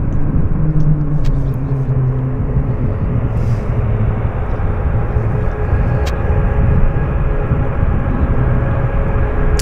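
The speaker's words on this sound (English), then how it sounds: "I can hear them starting engines." Airliner engines starting on the ramp at Vancouver International Airport give a loud, steady rumble with a sustained whine running through it. A bus moving nearby may add to the noise.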